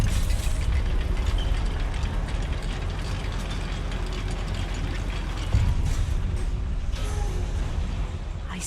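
A goblin mine lift in the game Hogwarts Legacy, grinding and rattling with continuous ratcheting gear clatter and creaks over a low rumble, with a few sharper clanks toward the end.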